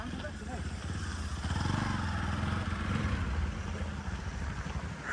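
A motorcycle engine labours steadily while the bike crosses a river on a ride near Sisneri, its drone continuous and fairly loud against wide background noise, with voices talking over it.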